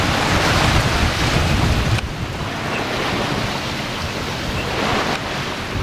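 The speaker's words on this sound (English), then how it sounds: "we got a bit more wind at last" A sailing yacht beats to windward in a freshening breeze, with a steady rush of wind and waves and heavy wind buffeting on the microphone throughout, dipping briefly before rising again.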